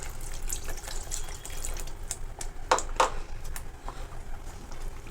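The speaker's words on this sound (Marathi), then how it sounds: "थोडंसं पाणी टाकणार आहोत आपण. गरम पाणी आहे" Hot water poured into ground masala for palak paneer, a close splashing pour with a couple of sharper spatters midway, then settling into faint liquid noise; no talking.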